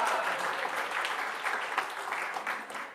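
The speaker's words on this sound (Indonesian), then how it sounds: "Tepuk tangan, maksudnya begitu." Applause from a church congregation during a sermon, a steady dense patter of many hands clapping at moderate loudness throughout, with no one speaking over it.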